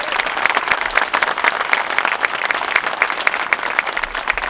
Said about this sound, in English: Please join me in giving him another round of applause